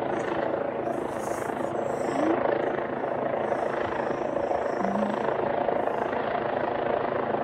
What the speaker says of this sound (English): needed air support. Helicopter!